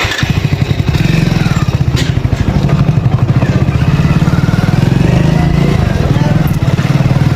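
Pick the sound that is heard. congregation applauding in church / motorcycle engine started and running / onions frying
motorcycle engine started and running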